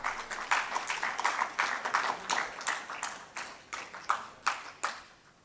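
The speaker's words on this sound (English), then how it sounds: "Kindly keep the applause going" A small conference audience on air pollution and health claps for a speaker stepping forward, a thin scattering of separate hand claps in a fairly even rhythm, fading slightly over a few seconds.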